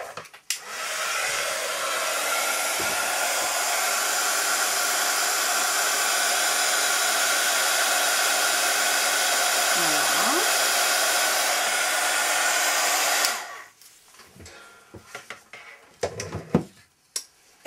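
A heat gun warming embossing powder blows a steady loud whooshing hiss for about thirteen seconds, then shuts off, leaving faint clicks and handling noises.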